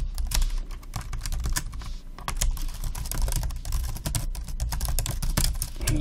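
Rapid clicking of fingers typing code on a computer keyboard, dense irregular keystrokes with brief pauses, close and clear throughout with no talking.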